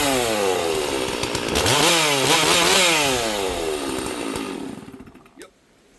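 A STIHL MS 460 chainsaw with a ported cylinder revs hard and close, its whining pitch rising, dipping and rising again before it drops off and cuts out near the end.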